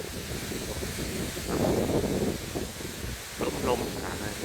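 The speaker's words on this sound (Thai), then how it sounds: "ลมขนาดเลย" Strong wind buffets the microphone at the Kaeng Kabao riverside port on the Lao bank of the Mekong, a continuous rushing roar that swells into heavier gusts, with a faint voice partly buried beneath.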